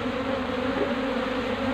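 Pistrane bees buzz steadily around a wooden beekeeping hive box, a close, continuous droning hum with no voices.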